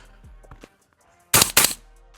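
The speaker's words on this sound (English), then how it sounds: "let's go ahead and fire the last mag through that compressor over there" A Spikes rifle in 300 Blackout fires two quick, loud shots close by, sharp back-to-back cracks after a quiet stretch with faint handling sounds.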